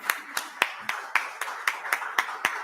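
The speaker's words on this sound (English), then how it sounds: "you deserve another round of applause" A small audience at an entrepreneurship event claps in a thin, sparse round: about ten separate sharp claps at an even pace over a few seconds, fairly quiet and close, with no talking over them.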